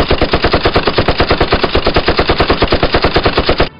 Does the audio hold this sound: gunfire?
yes